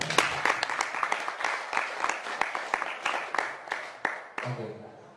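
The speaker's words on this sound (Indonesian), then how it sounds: "Boleh tepuk tangan?" A small audience at a panel discussion claps in scattered, distinct slaps that thin out over about five seconds, with a brief murmur of voices as it ends.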